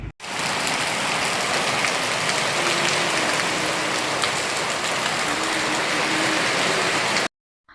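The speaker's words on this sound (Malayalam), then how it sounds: "അവർ പോയി കഴിഞ്ഞപ്പോഴേക്കും നല്ല പേര് മഴയായിരുന്നു" Heavy rain pours down in a steady, dense hiss on surfaces nearby, loud and unbroken from start to finish.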